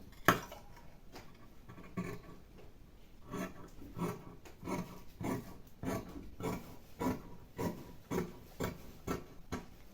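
Scissors cut through fabric for a two-layer sleeve frill, making a run of close, crisp snips that grow into a steady rhythmic series.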